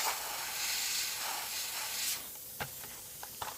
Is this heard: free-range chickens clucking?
no